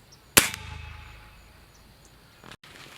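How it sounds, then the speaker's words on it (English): An air gun fires once with a sharp, loud crack early on, its ring decaying over the next second before a faint click near the end in a quiet outdoor setting. "actually, this is not a real gun, but this is air gun"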